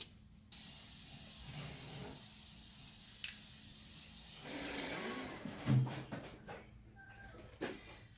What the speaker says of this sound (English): we're just going to spray the inside with primer and paint